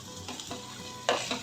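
Roasted semolina is stirred into hot water in a pan, a brief wet scrape and swish with a soft bubbling hiss, nearby.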